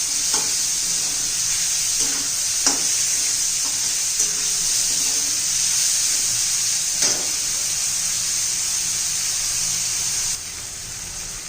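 Tomato and raw papaya sautéing in a pan for papaya bhaji, a steady hissing sizzle with soft intermittent stirring scrapes, close and even throughout, no talking.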